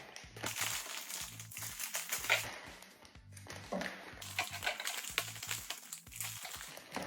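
Crinkling plastic as leftover packaging from a Norwegian army field ration is stuffed into a small plastic bag, with repeated close, crackly rustles and brief pauses.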